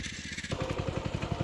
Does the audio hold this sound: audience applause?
no